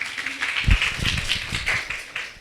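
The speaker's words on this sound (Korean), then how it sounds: "자, 다시 한번 크게 박수 부탁드리고" A lecture audience applauds at an environmental talk series, a modest, uneven patter of claps from a small group that rises and thins over a couple of seconds.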